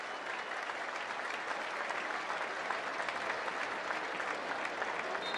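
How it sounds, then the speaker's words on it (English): Sustained applause from football fans in Houchins Smith Stadium during a UTSA at Western Kentucky game, a broad, even roar of clapping spread across a large outdoor crowd. "And a gracious round of applause from the fans inside Houchins Smith Stadium"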